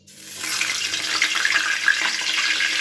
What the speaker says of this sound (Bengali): এবার মাছের মাথাটাকে ভেজে নিচ্ছি।